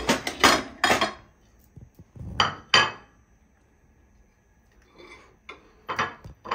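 A plate and cutlery handled at home, with clinks and knocks in a few separate bursts, close and moderately loud, with quiet gaps between.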